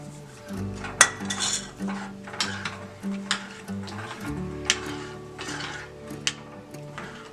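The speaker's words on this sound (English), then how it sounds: "You have to keep it stirring throughout the cooking, else it can burn." Raab, a thick Gujarati drink, being stirred in a pot, with a spoon knocking and scraping against the metal in an uneven rhythm over a quiet background hum.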